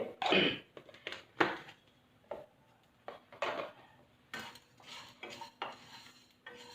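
Fennel seeds being dry-roasted in a pan for homemade chaat masala, a spoon or spatula scraping and clinking against the metal in irregular bursts, close and fairly quiet, with no talk.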